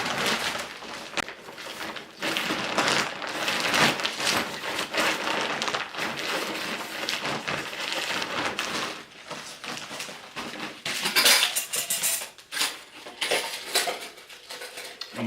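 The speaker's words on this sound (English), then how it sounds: "My cook kit will have to go on the outside." A camping cook kit of metal pots and utensils clatters and clanks continuously as it is handled and packed up close, with scraping, rattling and bursts of louder jangling.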